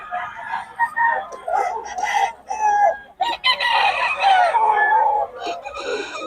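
Roosters crowing and chickens clucking loudly and continuously, several birds calling over one another up close in a busy, noisy chorus with no pauses.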